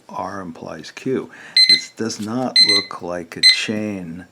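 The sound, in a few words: timer alarm going off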